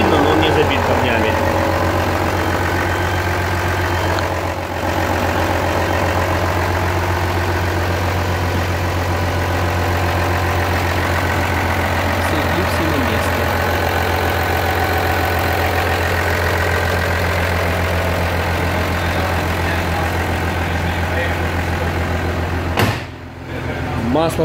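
A 1.9 CDTI diesel in an Opel Vectra C wagon idles evenly and nearby for a long stretch, its low rumble constant, with a brief thump-like dip near the end.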